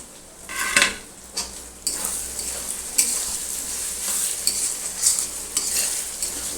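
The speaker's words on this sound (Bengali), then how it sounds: "এবার আমি টমেটো কুচি দিয়ে দেবো এখানে" Chopped tomatoes go into a pan of fried spice masala for ghugni, with a sharp clatter on entry followed by steady sizzling, metal utensil scrapes and stirring clinks nearby.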